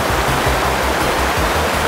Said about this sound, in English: we're sitting by a waterfall and we're eating the MRE